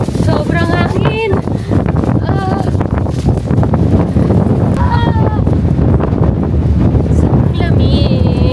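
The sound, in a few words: strong wind blowing by the Bosphorus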